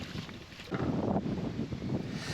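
Wind buffeting across an exposed fishing venue at a carp match, a steady low rumble of gusts hitting the microphone, rising in a stronger surge partway through, with no talking.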